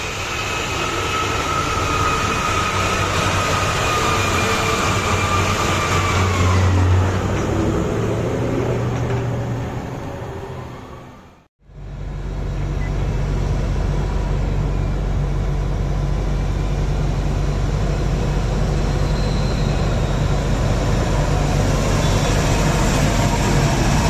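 A giant mining haul truck weighing nearly 880,000 pounds roars loudly and steadily with its retarder engaged, a deep sustained drone that cuts out briefly midway and then resumes at full strength.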